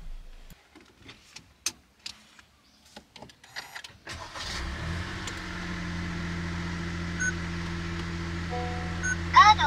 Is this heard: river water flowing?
no